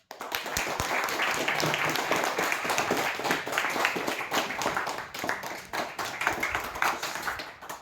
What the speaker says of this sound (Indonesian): Tepuk tangan untuk buat teman berdoa.